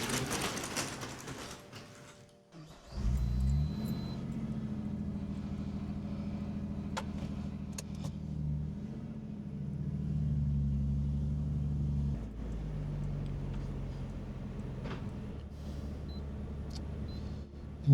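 Carbon fiber Nissan R34 Skyline driving, a steady low engine drone with rumbling road noise that holds for most of the stretch after a brief quiet start, heard from inside, no voices.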